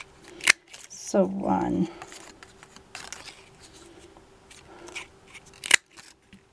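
Paper punch stamping shapes out of paper for a St. Patrick's Day fry box: a short burst of crunching, cutting clicks near the mic, with a few sharp clacks around it and a person talking briefly.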